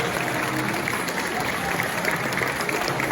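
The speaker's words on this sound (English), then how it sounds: "Huge round of applause, because we could not do this without them" Audience at a wool festival giving a huge round of applause, continuous and even throughout with crowd murmur underneath.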